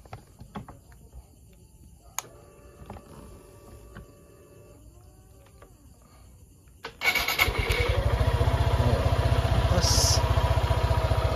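A quiet stretch with faint clicks and insects gives way to a Suzuki Gixxer 155 fuel-injected motorcycle engine starting up after a battery replacement and settling into a loud, steady idle.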